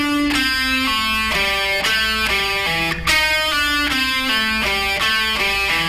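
An electric guitar slowly plays a descending pentatonic lick, single notes stepping downward in pitch, each note ringing clearly, with no voices present.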